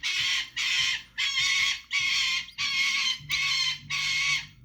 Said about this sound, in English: I think Romeo hears the chicks, so he's screaming in the background.